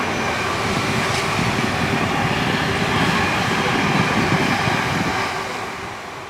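A Class 66 diesel locomotive train passes close by, a loud continuous rumble and rail roar that holds steady and then begins to ease away at the end.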